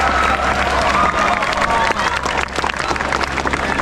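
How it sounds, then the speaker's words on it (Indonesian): An audience at a Jakarta high school gathering claps for the teachers, a loud, dense crowd applause with some cheering mixed in, sustained throughout while faint voices murmur underneath. "Tepuk tangan untuk para guru."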